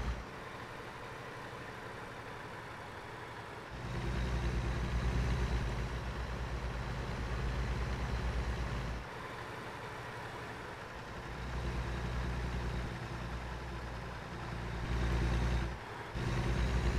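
A truck engine in American Truck Simulator drones at low pitch, idling quietly then surging louder in several repeated rises and drops, with no talking.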